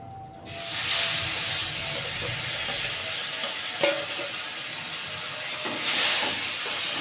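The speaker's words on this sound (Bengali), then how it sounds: "এবার এই দুটো ভেজে নেব।" Pieces of fish frying in hot oil in a pan for a fish curry, a steady close hissing sizzle with a few sharper spatters and small surges as the pieces are moved.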